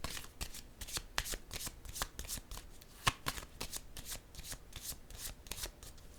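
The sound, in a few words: shuffling and drawing tarot cards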